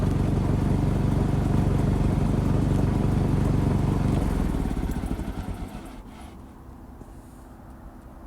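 A 1951 Ferguson TEA20 tractor drives nearby, its engine chugging loudly and steadily with mechanical clatter, then easing off and fading to a quieter idle toward the end.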